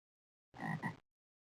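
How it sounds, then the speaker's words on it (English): A frog croaks in the DOS video game Amazon Trail: a single short two-part call, fairly faint, standing alone in otherwise silent game audio. "I hear a frog."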